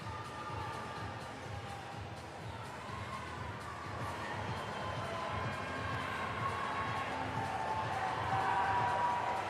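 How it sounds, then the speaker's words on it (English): Crowd noise at the 2023 CrossFit Games Semifinals, a steady roar of cheering and shouting that swells slightly toward the end as spectators urge on an athlete in her final set. "The crowd cheering her on"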